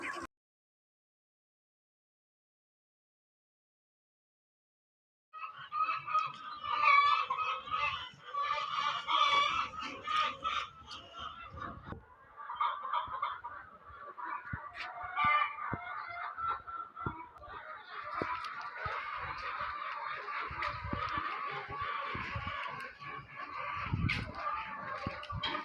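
Laying hens on a poultry layer farm, a dense, busy chorus of clucking and squawking birds filling the space after several seconds of silence, continuous and moderately loud with no talk.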